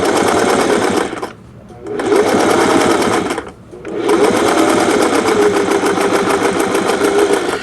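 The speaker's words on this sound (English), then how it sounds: "ride that seam allowance right on the edge of your presser foot and your needle again in the left needle position" A sewing machine topstitching a faux flat felled seam runs loud and close in three long bursts, its rapid needle rhythm broken by two short pauses.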